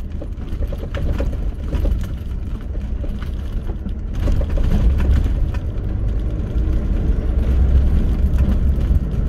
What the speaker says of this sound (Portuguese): caminhonete tá batendo alguma coisa aqui na frente